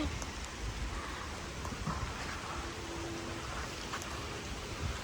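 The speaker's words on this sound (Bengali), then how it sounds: "মনে হচ্ছে জোরে বৃষ্টি নেমে গেল এই যে বৃষ্টি" Heavy rain pours steadily outdoors, a dense continuous hiss of drops hitting surfaces, loud and close throughout with no pauses.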